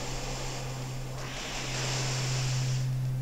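Waterfall attack effect from a Gen 2 Pokemon battle: a steady rushing, surf-like wash over a low constant hum that swells slightly louder toward the end, with no voices.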